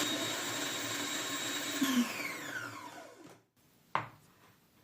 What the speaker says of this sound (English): place in the food processor, add 2 fresh chilies, process the onions,